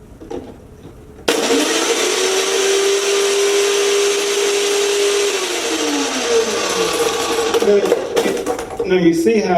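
A blender whirs into a loud, steady roar crushing asparagus with ice, holding a sustained whine for several seconds before the pitch drops and the motor winds down, with chunks rattling.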